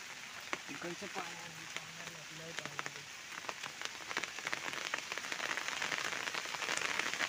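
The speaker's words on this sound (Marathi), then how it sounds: "पाऊस आला." Steady rain patters on surfaces outdoors, growing slightly heavier toward the end, with a voice murmuring briefly near the start.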